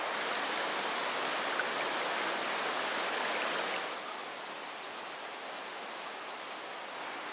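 A mountain stream in the Porcupine Mountains rushes steadily as a dense, even hiss of flowing water, nearby and constant, dropping slightly in level partway through.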